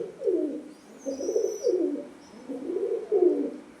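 Pigeons kept for breeding coo in soft, rhythmic low phrases, about four rolling calls in succession, close and fairly quiet, with a faint higher chirp above.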